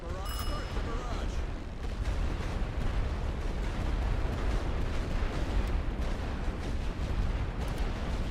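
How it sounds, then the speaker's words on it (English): An artillery suppression barrage in the World War One game The Great War: Western Front: a continuous, dense roar of distant guns and explosions rumbling steadily for the whole stretch, with voices mixed in. "Load for suppressing barrage. Position. Set position. Suppression barrage. Start the barrage."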